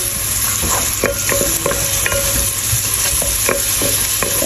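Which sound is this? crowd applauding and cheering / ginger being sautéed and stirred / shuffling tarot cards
ginger being sautéed and stirred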